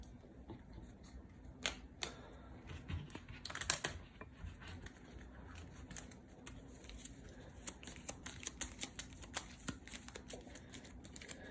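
Battlestar Galactica board game cards are shuffled by hand at a table, with quiet soft riffles and snapping flicks in irregular bursts and one louder flurry near the start.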